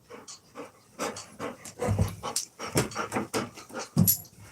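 A puppy dog pants close by in quick, rhythmic breathy bursts, with a few snorts and faint whimpers mixed in.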